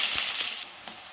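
Crushed garlic hits hot oil with mustard seeds and cumin in a pan for a country-style prawn and ridge gourd curry, giving a loud, steady, close sizzle that crackles for about a second with no talking.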